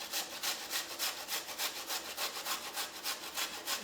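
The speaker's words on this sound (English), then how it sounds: "So all we're going to do with that piece is we're just going to grate it on the fine end" An ingredient for caramelised red onion chutney is rubbed on the fine end of a grater in fast, even back-and-forth rasping strokes, close and steady, about four strokes a second, with no voices.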